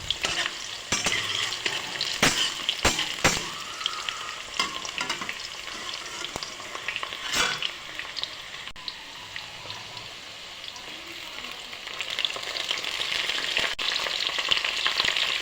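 Chopped tomatoes frying in a pan while being stirred, with a dense, continuous sizzle and repeated scraping and knocking strokes.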